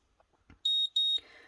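An E-Mark Create printer gives a double electronic beep, two clear, loud, high-pitched tones in quick succession, each about a fifth of a second long, in a quiet room with faint handling noises before and a softer rustle after.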